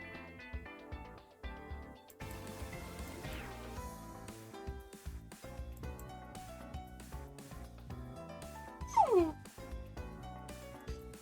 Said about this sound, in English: Such a drama queen of a dog.